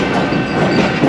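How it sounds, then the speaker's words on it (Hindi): A GU40 diesel locomotive hauls an oncoming train along a single-line track, a loud, close, continuous rumble with steady wheel clatter and no voices. "उस पर भी कोई ट्रेन आ रही है सामने से।"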